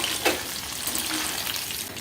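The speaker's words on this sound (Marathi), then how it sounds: "तेल चांगलं गरम झाल्याशिवाय शेंगा सोडायच्या नाहीत, नाहीतर मग त्याचं जे कोटिंग असतं ते तेलामध्ये उतरतं।" Coated drumstick pods frying in hot oil in a home kitchen, a dense steady sizzle and crackle, close and continuous throughout.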